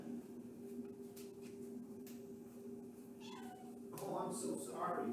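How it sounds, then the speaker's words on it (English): A house cat meows several times, a few drawn-out and plaintive calls rising toward the end, moderately close over a steady low room hum during a home lecture stream. "I gotta get this cat out of here because he won't behave"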